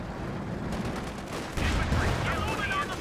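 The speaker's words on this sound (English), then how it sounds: "Panzer IV does get a good pen there on the Sherman tank" A Panzer IV tank gun shot hitting a Sherman tank in Company of Heroes 2, a heavy impact boom rising midway above a busy battle bed of scattered gunfire, with someone talking over it.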